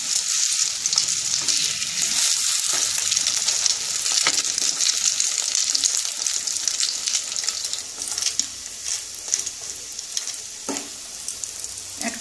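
Brown bread sandwiches fry in a pan, producing a loud, dense and continuous sizzle with occasional crackles, easing slightly toward the end with no voices.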